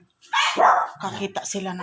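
Several pet dogs bark and yip in quick, loud bursts close by, overlapping with a person talking.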